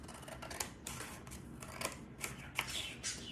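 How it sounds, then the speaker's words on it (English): Scissors cutting across a line on a sheet of paper while making a paper craft, giving soft, close snips and rustles in a quiet room with no talking. "you're gonna grab the scissors and you're just gonna cut"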